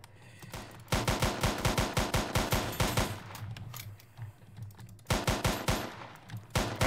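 Rapid bursts of automatic gunfire crackle through a shootout in the GTA roleplay game, loud, close and sustained in several volleys with brief pauses between them.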